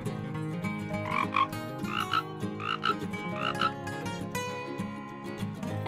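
Several cartoon frogs croak in an animated children's lesson, giving repeated rhythmic ribbit calls in a clear sequence over a steady musical background.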